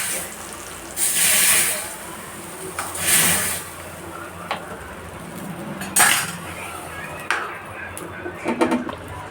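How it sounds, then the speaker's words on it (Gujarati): Hot oil and ghee tempering with mustard seeds poured into a pot of dal fry, giving several short bursts of sizzling hiss with clinks of a metal spoon and vessel between them, close and moderately loud. "હવે એમાં આપણે દાલ ફ્રાયમાં તેલ અને ઘીનો વઘાર નાખી દઈશું"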